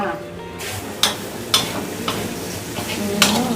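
Pineapple jam thickening in a pan over very low heat is stirred with a utensil, giving several sharp scrapes and taps against the pan over a soft steady simmer, with someone talking intermittently.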